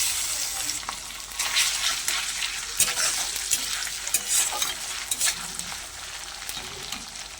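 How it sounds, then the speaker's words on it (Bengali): Ginger-garlic paste stir-frying in hot oil for a Bengali fish curry, a continuous sizzle broken by repeated utensil scrapes and stirring clatters, close and without speech. "এবারে দিয়ে দেবো আদা রসুনের পেস্ট।"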